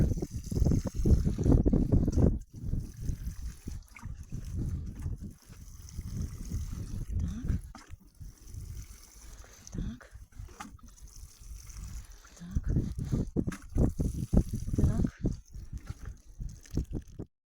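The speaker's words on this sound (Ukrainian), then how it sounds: "Всі ці ямки я заливаю водичкою." Water is poured from a container into planting holes dug in garden soil, making close, uneven splashing and gurgling in bursts with short pauses between pours.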